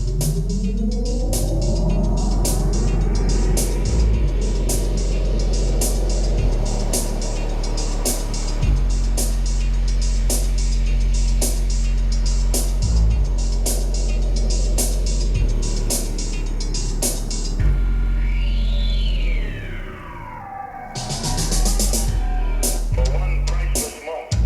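Music plays loud through newly installed front door speakers in a Ford Mustang, with steady pounding bass and rhythmic beats throughout, shifting near the end into a sweeping synth swell and brighter textures.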